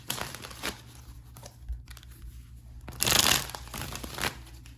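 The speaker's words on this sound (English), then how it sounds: "Let me just do a quick shuffle." Tarot cards being shuffled, soft riffling and crinkling bursts at close range, with one louder, denser flurry near the end, no speech.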